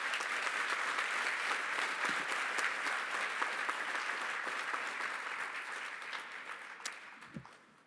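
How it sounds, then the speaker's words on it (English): Loud, sustained applause from a large audience at a college commencement ceremony, dense and even, gradually thinning toward the end with a few scattered claps. "Let's give them a round of applause,"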